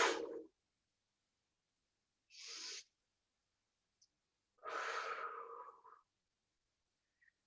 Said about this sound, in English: we're breathing out, we're pulling that stomach together and really breathing out